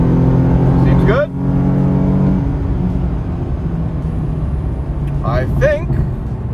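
A Nissan 370Z pulling away in first gear, its engine droning steadily up close with a brief rise in revs, while people talk over the running car.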